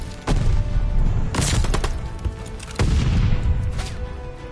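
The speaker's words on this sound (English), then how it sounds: "Allies caught an airstrike" Explosions from an airstrike boom during a Call of Duty hardpoint match, with several loud close blasts and rumbling tails mixed with bursts of gunfire and crackling debris.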